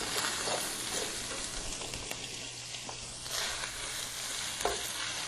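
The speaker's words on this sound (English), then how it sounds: "Then I'm going to add the green onion, and they'll just get a quick cook" Green onions frying in a pan for a quick cook, a steady close sizzle and crackle with faint stirring scrapes and no voices.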